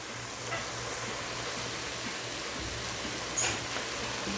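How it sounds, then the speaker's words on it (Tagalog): Shrimp sautéing in a pan for pinakbet, giving a steady close sizzle and crackle of frying with a faint stir or clink near the end, no voices. "tuloy-tuloy na natin igisa tapos ilagay natin yung hipon"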